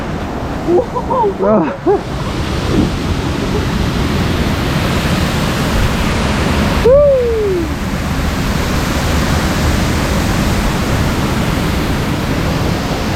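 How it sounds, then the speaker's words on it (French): Real water waves splash and rush during a boat ride at the Efteling theme park, a steady loud wash of water that continues throughout while a woman briefly exclaims near the start and again midway. "Il y a des vraies vagues"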